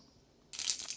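Mustard seeds, moong dal and cumin go into hot oil for a tempering and start to crackle. The bright sizzling hiss bursts in suddenly after a quiet moment and stays close and loud.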